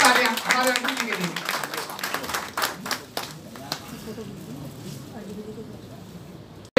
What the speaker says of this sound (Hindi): जोरदार तालियां हमारे अर्जुन जी के लिए।